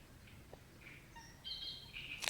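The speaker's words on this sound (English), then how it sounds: "That's a coot." A coot calling outdoors in Berlin gives a few short, fairly faint honking calls over a quiet background, ending in a sharper, louder call.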